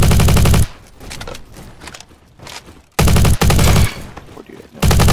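In the video game Bad Business, a UAR A2 rifle fires loud rapid automatic bursts, two long strings of shots separated by a quieter gap with footsteps and movement.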